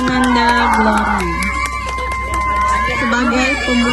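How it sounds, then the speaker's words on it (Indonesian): Crowd at a primary school graduation celebration in Palembang cheers and shouts after a student's opening performance, a dense, lively roar of voices with whoops running steadily throughout, close and loud. "kita beri tepuk tangan yang luar biasa untuk penampilan Ananda Glory"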